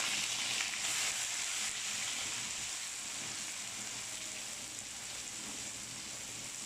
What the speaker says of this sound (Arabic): هحمرها معاكم. طبعا اهوت هنزل بالبصل والفلفل الاخضر للفول